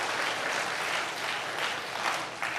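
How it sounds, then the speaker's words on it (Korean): Congregation applause at a church's 50th-anniversary thanksgiving service, a steady dense wash of many hands clapping that fills the room evenly without pause. "우리 박수로 격려하겠습니다"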